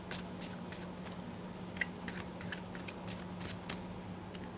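Long tarot cards are shuffled by hand, giving quiet, irregular crisp flicks and crackles at close range.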